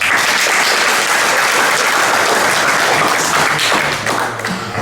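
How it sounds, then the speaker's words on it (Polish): Applause from a conference audience after a talk, dense steady clapping filling the room throughout and easing slightly at the end. "Także jeszcze raz brawa dla Konrada Szpakowskiego"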